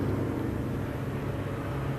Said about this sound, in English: airplane, listen.